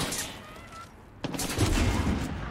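Cannon fire in the video game Far Cry 6: a burst of heavy booming shots after a quieter stretch, loud and rumbling, with a faint voice in the background.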